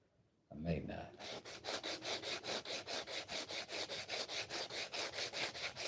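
A tool rasps back and forth along the edge of a hard, dyed wooden knife handle to cut a chamfer, making steady, rhythmic scraping strokes about three per second, close and fairly quiet, with no talking.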